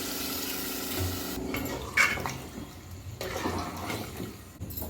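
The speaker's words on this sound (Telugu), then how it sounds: "ఇప్పుడు వేడి నీళ్ళు కాగబెట్టి పోస్తున్న" Hot water pours steadily into a pot of chicken curry with a gushing, splashing sound, close up, fading partway then continuing at a lower level.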